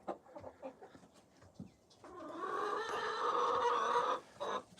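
Rhode Island Red hens cluck in a coop as they prepare to lay eggs, with scattered short clucks early on, then a sustained, louder drawn-out cackling chorus close by before tapering into a few final calls.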